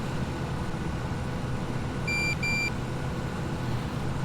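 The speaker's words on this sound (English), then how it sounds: "I wondered why this keeps beeping at me. It beeps when it's nearly full." A farm vehicle in Farming Simulator 17 sounds its nearly-full warning as two short, clear electronic beeps in quick succession, sitting over the steady low rumble of the engine.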